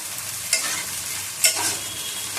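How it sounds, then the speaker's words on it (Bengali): Onions frying with mutton and torn bay leaves are stirred in a pan, a steady close sizzle with two sharper stirring clacks, no voices. "পেঁয়াজটা একটু নাড়িয়ে নিলাম"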